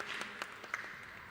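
At a design awards event, sparse, scattered claps ring out from a small audience for an app nominee, a few distinct hand claps standing out over a thin background of applause, brief and fairly quiet.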